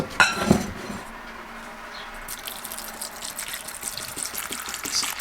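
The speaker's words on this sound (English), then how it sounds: "Pouring distilled water into it," Distilled water poured into a container of Chondrus crispus sea moss to make a gel: a short drip and clink near the start, then a steady, gentle pouring stream that keeps running to the end.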